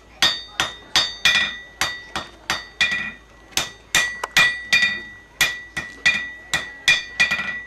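A blacksmith hammering hot metal on an anvil, with a long run of bright ringing strikes at a fairly regular brisk rhythm, each clang decaying before the next, close and loud with no talk.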